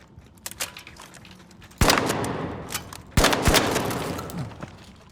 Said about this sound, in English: you can destroy Goo blobs with the SA 1216